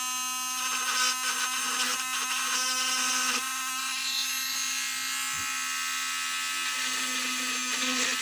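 A small electric drill drills into the bicep swivel joint of a Mugg Men action figure during a repair, giving a steady, loud, high motor whine that runs unbroken for the whole stretch.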